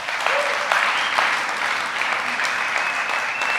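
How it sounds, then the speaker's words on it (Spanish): Loud, sustained applause from a church congregation, dense and steady clapping filling the room with a few shouts rising over it. "¿Cuánto le pueden dar un aplauso bien fuerte a Dios?"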